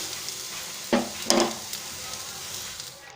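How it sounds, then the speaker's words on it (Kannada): Onions fry in oil in a pan with a soft continuous sizzle, broken by two short scraping stirs close by. "ನಾವು ಈರುಳ್ಳಿಯನ್ನು ಕೆಂಪುಗೆ ಆಗೋ ತನಕ ಬೇಯಿಸ್ಕೋಬೇಕು"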